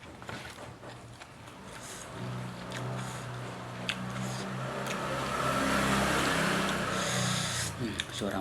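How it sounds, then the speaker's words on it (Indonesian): Motorbike engine passing by a roadside eatery, a mid-pitched motor growl swelling louder toward the middle and end among background clatter and murmuring voices. "Suara motor, nggak apa-apa lah."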